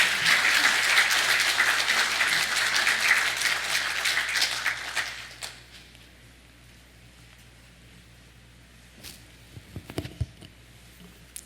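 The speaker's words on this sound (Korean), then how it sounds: "나오실 때 우리 박수로 환영해 주시면 감사하겠습니다" A church audience applauds to welcome a woman coming up to give her testimony, steady clapping for about five seconds that fades away into a quiet room with a few faint thumps afterward.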